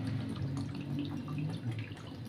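Water pours from a tap into a cup to make sugar syrup: a short, continuous, moderately close splashing stream with a light gurgle, with no voices.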